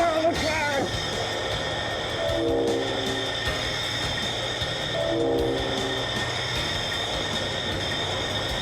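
A train rolls past with a steady rumble and a long, sustained horn blast that sounds twice across the pass, loud and close throughout.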